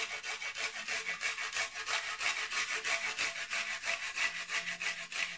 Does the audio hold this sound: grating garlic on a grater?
yes